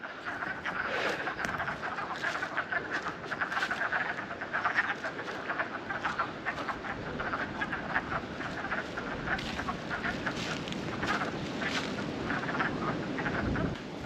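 A dense chorus of wood frogs croaks steadily from a spring pond, many overlapping clucking calls running continuously at moderate distance with no pauses.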